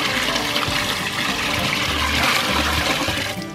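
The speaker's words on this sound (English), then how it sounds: "But I'm gonna go ahead and fill my water pan." Water poured into the water pan of a charcoal smoker, a steady rushing splash that holds loud and continuous throughout, then eases slightly at the very end.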